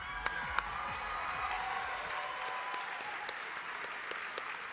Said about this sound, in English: Let's give our contestants one more round of applause.